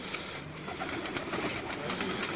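Racing pigeons coo softly in a champion loft in Dubai, a faint, low murmur of birds close by with no voices over them.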